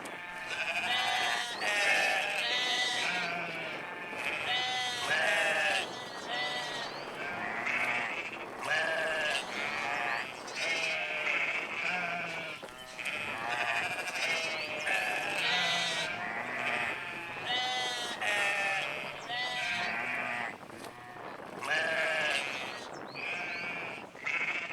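Afghan Arabi domesticated sheep of the Kuchi herders bleat continuously, a dense, overlapping chorus of many animals calling loudly and nearby, with no voices among them.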